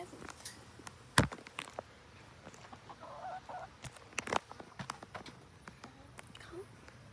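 Brown chickens cluck softly among a backyard flock, with scattered short calls and sharp knocks amid light background noise.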